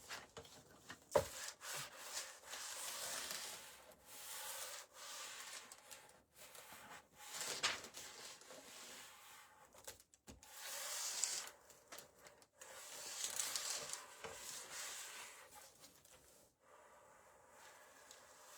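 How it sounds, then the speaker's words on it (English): Antiquing gel rubbed by hand onto a wooden sign, soft repeated scrubbing and rasping strokes in uneven bursts with brief pauses, faint and close. "On my sign, I actually rub my antiquing gel on there."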